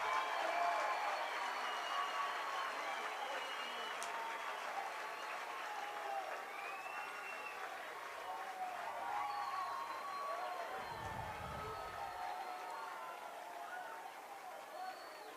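A large high school baseball crowd at a 5A championship game roars and cheers continuously after a game-tying two-run single, a broad, sustained wash of applause and shouting with a few whistles and a voice talking over it.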